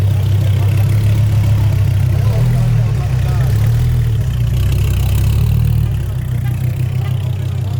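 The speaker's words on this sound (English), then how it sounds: "We got the Viper race car." A Viper race car engine idles at a car meet, a loud, deep, burbling rumble close by that shifts slightly in pitch and lightens near the end.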